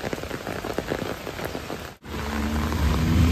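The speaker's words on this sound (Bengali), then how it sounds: "প্রচুর বৃষ্টির মধ্যে ঘুরতে এসে ঢোকা গেল না" Heavy rain pours steadily at Jhakri Falls Park in Gangtok, a dense continuous hiss with a brief dropout midway before the downpour returns with a stronger low rumble.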